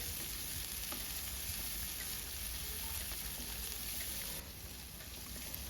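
Chopped onion and tomato fry in a pan with a steady, even sizzle and faint stirring, close but soft, with the hiss dipping slightly near the end.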